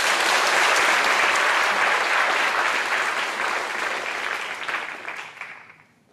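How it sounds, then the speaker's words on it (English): A crowd at a high school graduation ceremony gives graduates a big round of applause. The clapping is loud and dense at first, then gradually thins and fades to near silence. "Let's give a big round of applause."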